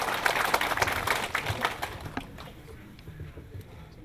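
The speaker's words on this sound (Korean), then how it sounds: "뜨거운 박수 부탁드리겠습니다" Audience applause at a Korean New Year greeting gathering as a guest is welcomed to speak, brisk clapping from a modest crowd that thins out after about two seconds into a few scattered claps.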